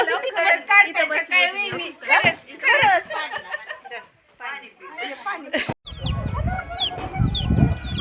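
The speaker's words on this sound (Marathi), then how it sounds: "रुद्रांश कोंबड्यांच्या पिल्लांबरोबर खेळतो" Small chickens' chicks peep and chirp in the background after people finish talking nearby, with high calls continuing at the end.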